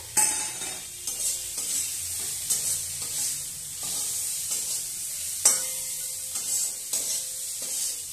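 Tomato masala frying and being stirred in a pan, a steady sizzle broken by repeated scraping strokes of the spoon, close and fairly loud with no talking.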